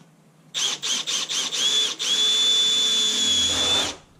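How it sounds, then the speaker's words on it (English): A power drill bores 3/16-inch holes in the sheet-metal floor of a 1982–1992 third-generation Camaro: a few short stuttering bursts, then a sustained high whine, loud and close, with no talk. "So I'm just going to go around and drill a bunch of 3/16 holes"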